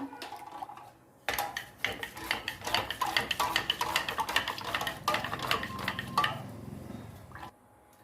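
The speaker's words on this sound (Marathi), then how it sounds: "एक चमचा ताकामध्ये आपण बेसन पीठ टाकलेलं आहे ते आपण मिक्स करून घेऊ" Spoon whisking gram flour into buttermilk for Gujarati kadhi, quick wet clinks and scrapes against the bowl in a fast, uneven rhythm, close and fairly quiet, stopping abruptly at the end.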